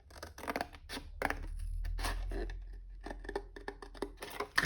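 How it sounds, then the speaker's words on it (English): Scissors snip through folded card for a craft accordion tunnel card, a series of short close crisp cuts with brief pauses, plus faint handling rustle and low background hum. "we're going to cut up to the halfway point on this seam here"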